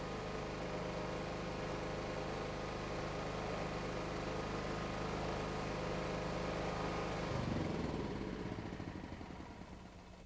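A Kawasaki small engine runs at high idle during carburetor adjustment, giving a steady, even mechanical drone. Near the end the pitch shifts and the sound tapers off.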